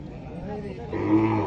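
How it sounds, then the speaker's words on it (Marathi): A low, drawn-out bull call rises over a busy outdoor bull market in Bodhegaon, close by and fairly loud. "अशा पद्धतीने आजचा गुरुवारचा बैल बाजार भरलेला आहे"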